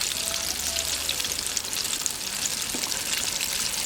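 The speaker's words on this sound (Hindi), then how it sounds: "इनको 8 से 10 मिनट के लिए हमने फ्राई करना है।" Chicken hot wings deep-fry in oil, producing an even, continuous bubbling hiss like light rain, moderately loud and close with no speech.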